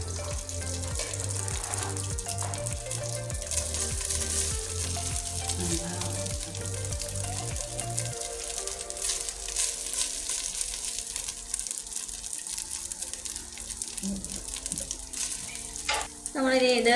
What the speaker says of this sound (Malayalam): ഇനി അതിന് കുറച്ച് നെയ്യ് ഒഴിച്ചു. ഇത് നമ്മൾ ആദ്യം ചോറ് ഇടുകയാണ്